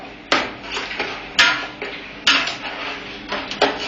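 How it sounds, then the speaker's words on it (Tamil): Pieces of mutton drop into a metal cooking pot, producing a few sharp clanks and scraping knocks spaced about a second apart, close and fairly loud with no talk. "மட்டன் இப்ப சங்கர் பாய் போடுறாரு"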